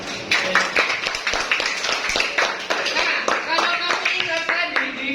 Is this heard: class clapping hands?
yes